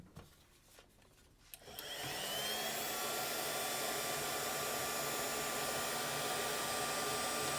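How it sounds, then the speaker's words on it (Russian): A hair dryer switches on after a few quiet seconds of handling and blows steadily and loudly, a constant whooshing roar with a faint whine, while black chips are processed from circuit boards. "Я надеюсь, фен не сильно шумит."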